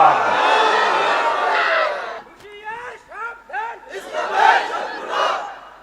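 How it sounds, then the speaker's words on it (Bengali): A large crowd at an outdoor religious sermon roars a takbir in unison, loud massed shouts that swell and fade in waves, answering a preacher's chanted call between them. "কারা কারা হাত উঁচু করে তাকবীর দিয়ে দেখা।"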